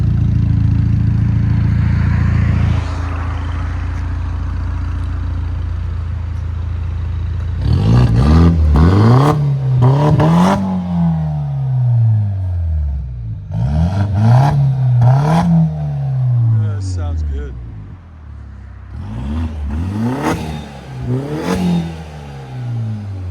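A 2018 BMW 530i with a 2.0-litre four-cylinder turbo engine and a deleted muffler idles, then revs hard in four repeated bursts, each climbing and falling back, loud and close with no talking.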